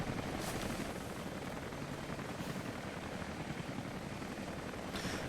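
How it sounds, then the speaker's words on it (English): Helicopter in the video game Rise of the Tomb Raider, a continuous dense rotor and engine wash at moderate level with faint thumps, heard alone without speech. "Can a helicopter lift a shipping container?"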